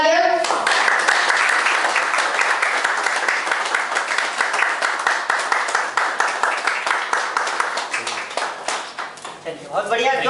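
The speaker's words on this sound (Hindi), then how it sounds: "जोरदार तालियां" Loud, dense clapping from a crowd at a Modicare gathering runs for several seconds before thinning out, with voices heard briefly at the start and end.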